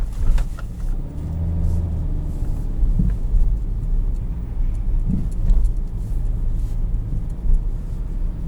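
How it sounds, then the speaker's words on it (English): A 2020 Hyundai Venue SEL rolls over a speed bump, its steady low cabin rumble broken by two soft thumps a couple of seconds apart as the wheels cross. "Over the speed bump."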